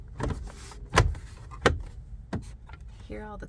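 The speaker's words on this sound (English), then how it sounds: "Hear all the clicks." Plastic trim panel clips snap into a Nissan NV3500 van dashboard, making several sharp, close clicks spaced unevenly over a few seconds, with a brief voice near the end.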